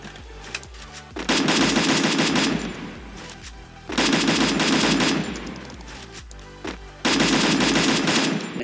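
An MP40 submachine gun fires in the mobile shooter Free Fire, played on a PC Android emulator, in three loud sustained bursts of rapid automatic fire separated by short pauses of quieter game sound.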